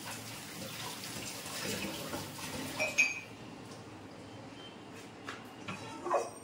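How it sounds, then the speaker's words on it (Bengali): Water running and splashing faintly as rice is washed in a kitchen, with occasional soft clinks of a pot, close but quiet and without talk. "চালটা ধুয়ে নিই বরঞ্চ এখন।"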